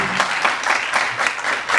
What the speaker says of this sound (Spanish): agradecer ese aplauso